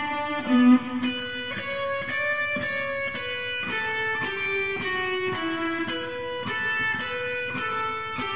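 A plucked guitar picks out a slow melodic line from Pachelbel's Canon in D, single notes ringing and overlapping in an even, unhurried rhythm.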